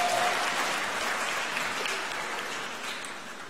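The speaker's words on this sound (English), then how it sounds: "That's worthy of an applause." A university fall convocation audience applauds in a large hall, a dense, steady wash of many hands clapping at once that eases slightly toward the end, with no voices over it.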